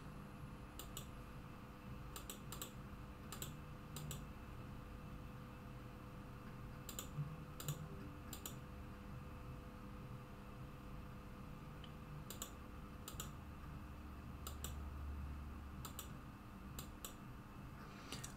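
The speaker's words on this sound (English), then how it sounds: "if you just type it in here" Keys tapped on a keyboard while entering a password on a Provision-ISR NVR, heard as faint clusters of quick clicks with gaps between them, over a low steady hum of equipment in the room.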